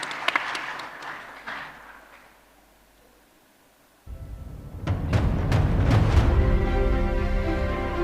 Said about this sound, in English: And please give a huge applause for the professor and Claudia and also Michelle.